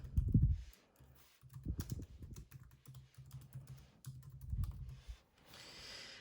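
Someone types a short name on a computer keyboard, a close, soft run of key clicks with brief pauses between words over a low background hum.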